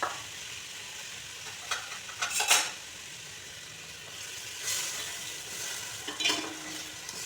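Boiled eggs and potatoes being sautéed in ghee, a steady close sizzle with intermittent bursts of spatula stirring and scraping against the pot, without any talking.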